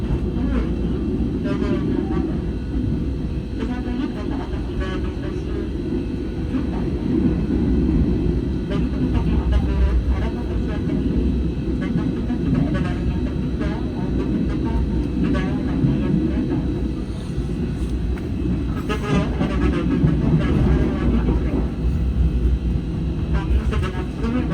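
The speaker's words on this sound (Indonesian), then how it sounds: "Kereta udah mengurangi kecepatan." The Gajayana passenger train slows on arrival at Blitar, heard from inside the carriage as a continuous low rumble with rattling and clicking, while people talk faintly in the background.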